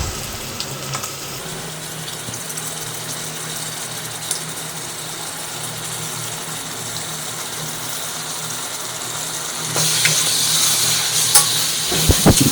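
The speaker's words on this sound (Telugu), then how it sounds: "ఇప్పుడు దీన్ని ఆయిల్ అల్లం ఎల్లిగడ్డలో మంచిగా ఉడకాలి కాబట్టి మంచిగా కలిపి" Half a kilo of mutton frying in oil with ginger garlic paste, coriander and mint, a steady low sizzle with occasional stirring scrapes, rising louder near the end, no speech.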